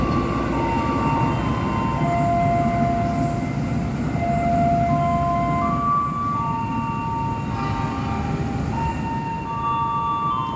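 The Taksaka train rumbles steadily past through a station in Indonesia, wheels grinding and squealing in high drawn-out tones over a continuous heavy roar.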